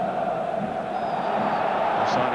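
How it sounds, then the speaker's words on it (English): A football stadium crowd at a 1995-96 Serie A match between AS Roma and Fiorentina, a steady loud roar of frustrated voices filling the ground throughout with no clear break. "the crowd again very frustrated by it"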